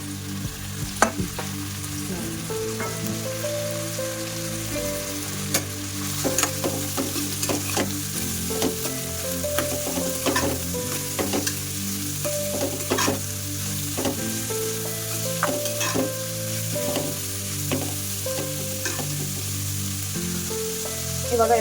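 Chopped onion and coconut sizzle steadily in hot oil for a country chicken fry, with frequent scraping clicks of a stirring spoon against the pan throughout.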